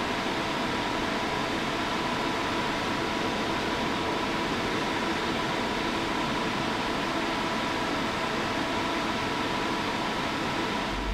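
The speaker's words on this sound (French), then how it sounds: "une deuxième vidéo où on allumait tous les ventilateurs, il n'y en a que 6, donc 3 qui font rentrer de l'air dedans et 3 qui aspirent l'air" Cooling fans in a six-GPU mining rig with six fans, three blowing in and three pulling air out, give a steady, even broadband whoosh with a faint hum, constant throughout and close, with no speech.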